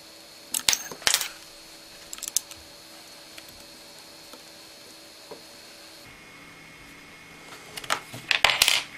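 Screws tightening on an AABB Hera Glock 18c conversion kit: a few sharp, close clicks and scrapes near the start and a cluster more near the end, with quiet handling between.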